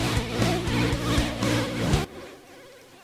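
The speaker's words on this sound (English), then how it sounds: "that's a very real analog sounding noise" Analog-style tape noise from the Waves J37 tape emulation plugin: a dense, buzzy hiss with a soft rhythmic pulse for about two seconds, then it drops off sharply to a much quieter residual hiss.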